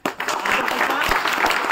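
Applause from the audience at a school felicitation honouring former classmates, sustained clapping for nearly two seconds with some voices mixed in.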